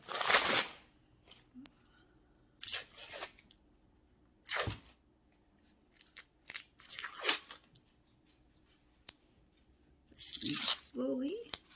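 Parchment paper is slowly peeled away from fudge in several crinkly tearing bursts separated by pauses, close and crisp, with a brief voice near the end.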